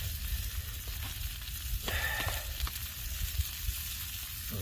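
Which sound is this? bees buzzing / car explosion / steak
steak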